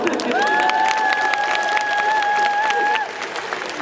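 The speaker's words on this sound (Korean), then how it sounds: "여러분 이상한 감독님과 이상한 배우분들에게 큰 박수 한번 부탁드립니다." Audience applause at a Busan International Film Festival open talk for the director and cast of the film Cobweb: dense, steady clapping with a sustained high whistle-like tone riding over it for about three seconds.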